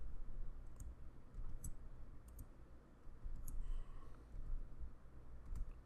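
Keys clicking on a computer keyboard as a command is typed into a MariaDB terminal, quiet and close, in short irregular bursts of taps against a faint steady hum.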